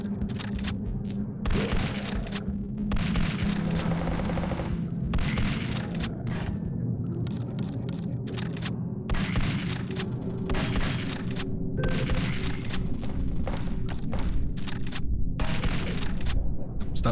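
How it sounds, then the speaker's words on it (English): Rapid, sustained gunfire rattles on in the retro first-person shooter Zortch, with dense, loud bursts of shots that continue nearly without pause and briefly break into short gaps. "Stop shooting the corpse."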